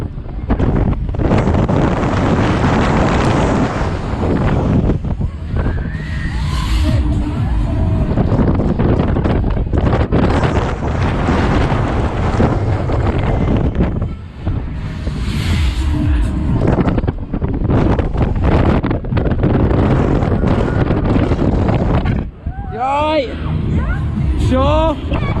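Strong wind buffets the microphone at a fairground, a loud continuous roar lasting throughout, with people shouting and talking over it and brief lulls in the gusts.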